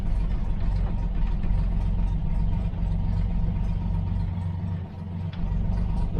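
A Toyota FJ40 Land Cruiser engine running at a steady, rumbling idle, loud and close, with a constant low throb throughout.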